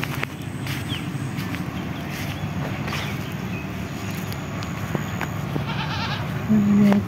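Goats bleat now and then, waiting to be fed grass, over a busy outdoor farm background with rustling and footsteps, a few louder calls near the end.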